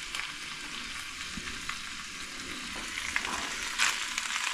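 Meat frying and crisping in a pan for tacos, a continuous close bright sizzle with small crackles and pops, steady throughout with no talking.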